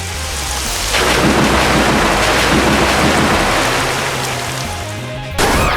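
Thunder and heavy rain form the Storm Rush attack effect in the Manamon 2 video game: a loud, sustained roar of downpour with rumbling thunder that fades near the end before a sharp new burst.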